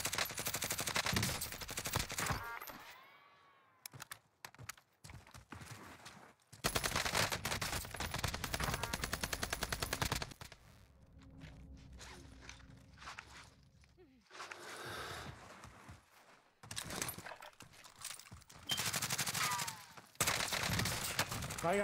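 Bursts of rapid automatic gunfire in the video game Call of Duty: Warzone, loud and close, broken by short gaps, with footsteps and someone talking over parts of it.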